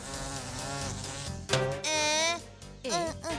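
A cartoon housefly buzzes in wavering, rising and falling whines, a continuous drone that breaks off and returns in short bursts over a busy backdrop.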